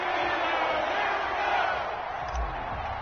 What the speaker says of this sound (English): you get the crowd involved fully on their side in this ballgame